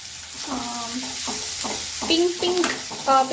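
Masala filling for masala dosa fries and sizzles in a pan, with loud, repeated scraping stirs of a spatula against the pan in an uneven rhythm, and a voice talking over the cooking.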